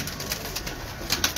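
Pigeons on a rooftop coo continuously and close by, a soft, throaty, rolling murmur with no talk over it.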